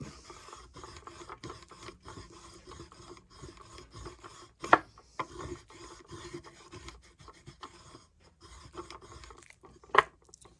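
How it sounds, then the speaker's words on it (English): Compound being rubbed onto a leather strop for sharpening woodcarving tools, giving a close, dry rhythmic scraping and rubbing with a couple of sharper knocks. "Go ahead and reload up the strap."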